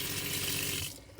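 A 12-volt fresh water pump in a Horton ambulance camper conversion runs water through a faucet, giving a steady close rush of flow that cuts off abruptly after about a second, leaving a faint hum.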